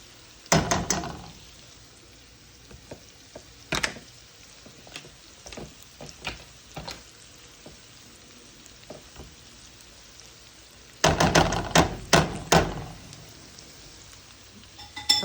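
Butter melting into hot vegetable oil in a pan for gravy, giving quiet crackling pops and a faint sizzle, with louder bursts of spattering near the start and again toward the end.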